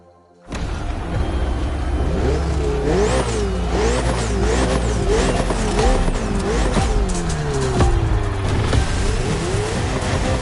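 Ferrari and Red Bull racing car engines in The Crew Motorfest roar and rev continuously, pitch rising and falling in repeated gear-shift sweeps, loud and close throughout.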